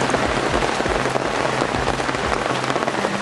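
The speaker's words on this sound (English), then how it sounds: "Rainstorm." Heavy rainstorm pouring down in the jungle, a dense, loud, unbroken hiss of rain hitting surfaces with no letup, close and enveloping.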